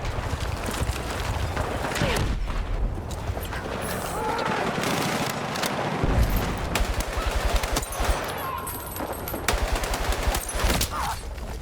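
Battlefield 6 battle with bursts of automatic gunfire and scattered shots amid rumbling combat noise, loud and continuous, with a voice talking over parts of it.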